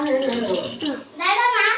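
Tap water running into a sink as hands are rinsed at home, a close splashing stream broken by a brief pause, with a child and an adult speaking over it.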